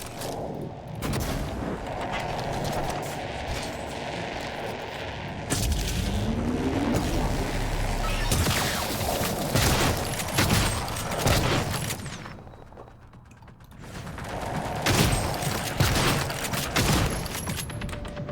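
Floating air turrets in the game Prey (2017) fire in dense, rapid bursts of sharp shots and booms, loud and continuous with a brief lull before the volleys pick up again.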